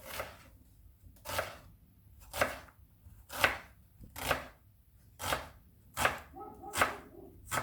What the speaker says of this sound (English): There we go, there's the onions sliced